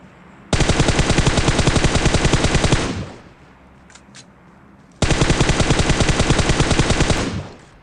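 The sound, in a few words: M4 rifle gunfire with 3x scope in PUBG Mobile video game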